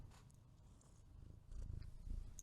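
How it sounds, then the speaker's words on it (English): A cat named Annie purrs softly in quick rumbling pulses, very close and quiet, growing slightly louder toward the end, with no talking. "Are you purring?"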